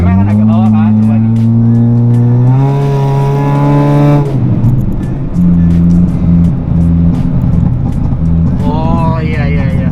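A Honda Brio Satya car engine revs hard up and down as the throttle is blipped, loud and close, with a strong rising pitch and then a falling back to a rough idle.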